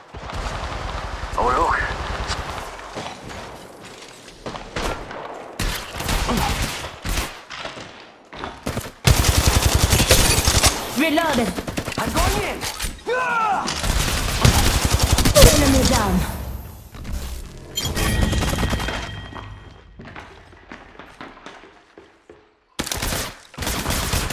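Repeated bursts of gunfire from an attacking squad in a match of Apex Legends, loud and dense, with rapid automatic volleys and single shots coming in clusters, separated by brief lulls and mixed with game sound effects.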